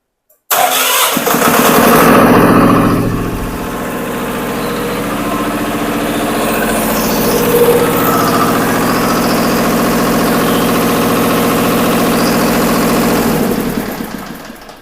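Diesel fire pump engine in a pump room started manually, cranking and catching with a loud roar, then settling into a steady, heavy idle that runs for over ten seconds before fading.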